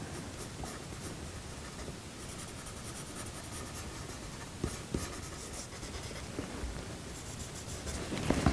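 A coloured pencil scratches across paper while grey hair is drawn in a portrait, a soft, continuous close-up hiss of strokes with a few sharper taps near the end.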